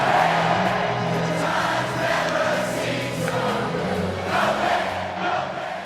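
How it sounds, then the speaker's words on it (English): Pitt Panthers fans fill Acrisure Stadium at the end of the third quarter, singing and chanting together. The loud, echoing mass of voices surges and sways steadily throughout. "The swaying and chanting continue to echo throughout Acrisure Stadium at the end of the third quarter at every Pitt Panther home game."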